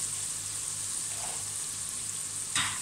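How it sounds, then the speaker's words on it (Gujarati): Chopped onions frying in oil in a pan for Kathiyawadi undhiyu, a steady close sizzle that holds without a break, with one brief louder crackle near the end and no talk. "બધી જ ડુંગળી આપણે આમાં નાખી દઈશું."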